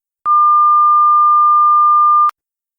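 A pure, steady sine wave tone at a higher pitch, loud and perfectly constant, holds for about two seconds alone, with clean onset and cutoff.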